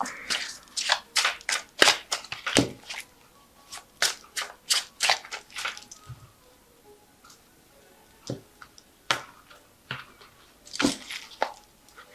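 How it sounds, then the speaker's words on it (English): Tarot cards shuffled by hand in a quiet room: a run of crisp riffling snaps and taps in quick bursts, pausing briefly midway and then resuming with scattered flicks, close and clear with no talking. "So I'm just going to shuffle this deck."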